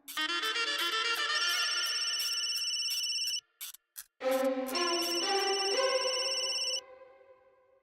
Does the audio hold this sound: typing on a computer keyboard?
no